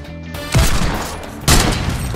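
Video game gunfire rings out in two sharp bursts about a second apart, loud and close over a steady background hum.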